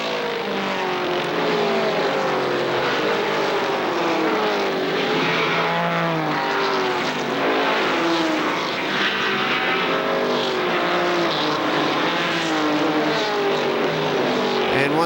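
ARCA stock cars race around an oval in a steady, loud, continuous engine roar, several cars droning and overlapping as they pass close by, with no break across the whole stretch.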